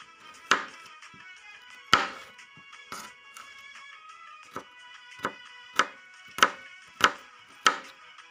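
A knife cuts chillies into small pieces on a board, giving about ten sharp, distinct chops at an uneven pace, close and clear against a quiet background.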